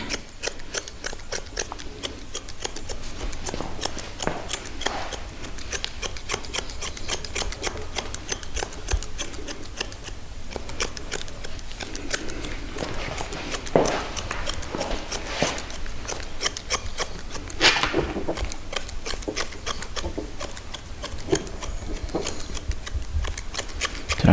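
Close snipping of grooming shears on a Westie's rear coat, fast steady clicks repeating throughout with short pauses and occasional louder cuts, no voices present.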